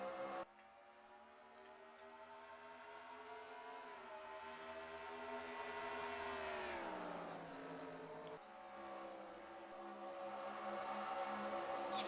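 Stock cars racing at Phoenix in the NR2003 sim: a loud, layered engine howl from the pack sweeps up and down in pitch as the field passes, droning continuously throughout.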